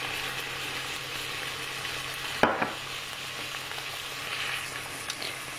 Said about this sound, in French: On mélange et je laisse revenir quelques secondes comme ça